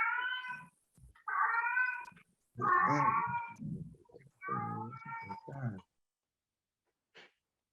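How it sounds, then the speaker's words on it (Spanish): A cat meows repeatedly in a series of drawn-out, wavering cries, close and fairly loud, with brief pauses between them and a short faint sound near the end. "A ver, ese gato."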